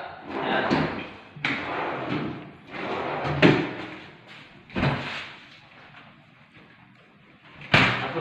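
A cabinet drawer is worked open and shut several times, giving repeated sliding scrapes ending in thuds and a few sharper knocks close by, with a voice talking between the sounds.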